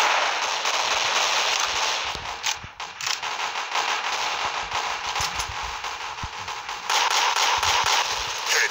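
Dense video game gunfire, a near-continuous loud crackle of rapid shots with a short dip partway through and a renewed burst near the end.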